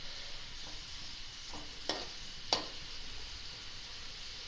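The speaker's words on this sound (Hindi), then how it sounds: "इसको हल्का सा सौते करेंगे" Onions lightly sautéing in a pan for aloo keema matar give a faint, steady sizzle, broken by a couple of sharp utensil clicks against the pan.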